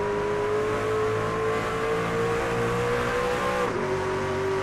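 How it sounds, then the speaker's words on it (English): Racing truck engines from an online truck series in a racing video game drone and rev steadily, with a gear shift audible as the pitch drops briefly near the end; continuous, loud, no talk. "you hear the drivers are shifting"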